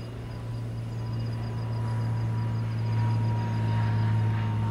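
An airplane idling in a flight simulator game, heard from outside the aircraft: a steady, loud engine drone with a low hum and a faint whine held throughout.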